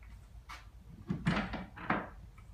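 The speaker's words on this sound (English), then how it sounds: "We got our door open" A household door opens with a few soft knocks and creaks spread over a couple of seconds, while eleven-week-old Labrador puppies wait nearby; fairly quiet and close, with no talk over it.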